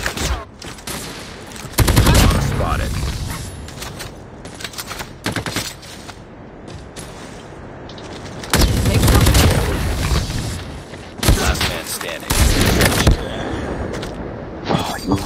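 Repeated gunfire bursts in a first-person shooter game, loud rapid volleys in several clusters, with players talking over the shots between bursts.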